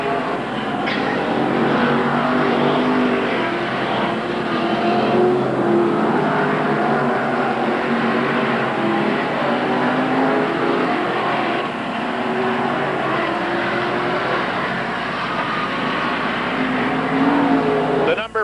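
Modified race cars roar around the Merrittville oval track in a heat or feature, a continuous loud drone of engines with a commentator talking over it throughout.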